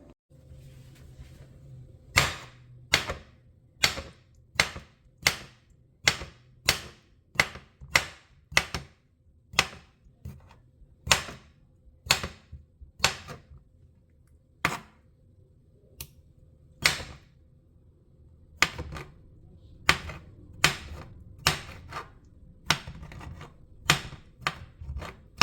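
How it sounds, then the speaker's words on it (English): A knife cutting and dicing whole dill pickles on a board: sharp, distinct chops in irregular runs with short pauses, close and clear with no talk. "I'm going to cut and dice these pickles"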